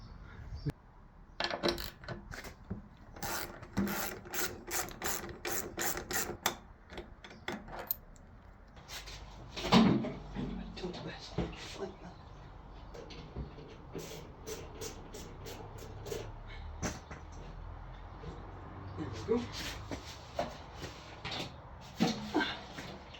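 Fuel tank comes off a 1989 Kawasaki GPZ500S motorcycle during a restoration, with scattered metallic clinks, rattles and handling noises from close by, quiet and irregular, plus brief rustles as the tank slides back.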